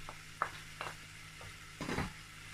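Crayfish tipped into a pot while cooking honey beans: a few soft, scattered scraping taps, then a brief, louder rustling clatter near the end, all close and fairly quiet with no talking.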